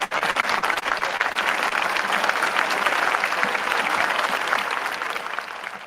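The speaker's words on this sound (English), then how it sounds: "that was an abrupt stop on the applause" Applause from an audience at a podcast recording fills the room for about six seconds, a dense steady clatter of many clapping hands that fades slightly near the end.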